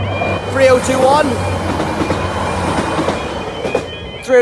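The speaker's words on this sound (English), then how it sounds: "your 1403 Northern Ireland Railway service from Great Victoria Street to Londonderry" Northern Ireland Railways passenger train from Great Victoria Street to Londonderry rolling past Springfarm level crossing in Antrim, a steady close rumble with a brief wheel squeal early on and someone talking over it.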